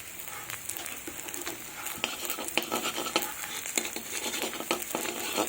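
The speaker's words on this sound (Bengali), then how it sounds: "এবার আমি এখানে একটু তেল দেব, আর আমি এখানে দেবো কালো জিরে" Black cumin seeds fry in hot oil for a fish curry tempering, a close crackling sizzle broken by quick irregular pops and spatula scrapes, steady and fairly quiet with no talking.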